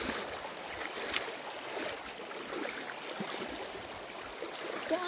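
A river stream rushing over rocks on a mountain hike toward Puray Falls in Montalban, Rizal, with steady broadband flowing water and splashes, close and continuous.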